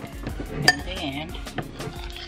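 A utensil clinks and scrapes against a bowl while banana cake batter with eggs and vanilla extract is stirred, a sharp clink standing out among the soft rhythmic stirring.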